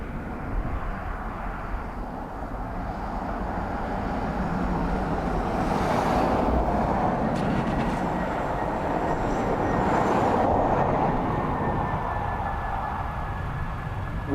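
A Ryanair airliner lands at Dublin Airport in a crosswind with one thrust reverser working and one not, giving a loud, steady broadband engine roar that swells twice during the rollout and then holds.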